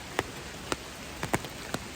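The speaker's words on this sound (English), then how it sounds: "As you might be able to tell, it is still raining." Rain falls outdoors on a mountain stretch of the Appalachian Trail, a steady soft hiss broken by a handful of sharper drop hits landing close by, with no voices.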